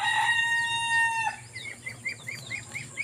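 Farm chickens kept among ducks on a rural homestead: a rooster's clear crow at the start, followed by a run of hens clucking in quick short bursts nearby, with no voices.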